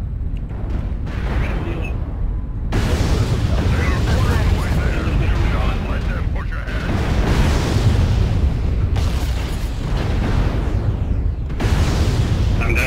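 Repeated air strike explosions in the MechWarrior Online mech combat game, a dense run of heavy booms and rumbling blasts filling the whole stretch, with brief dips between volleys and no voices.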